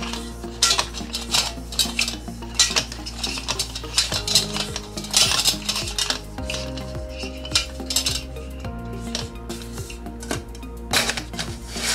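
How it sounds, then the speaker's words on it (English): Metallic clinks, taps and scrapes from a butane gas canister being screwed into a camping stove, in close, irregular bursts with no talking. "Screw in the butane gas"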